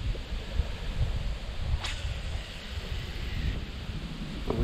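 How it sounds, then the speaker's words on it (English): Blustery wind buffeting the microphone outdoors at a fishing spot by a weed line, a constant rumbling roar with gusts and a faint whooshing swipe partway through. "It's so windy out here."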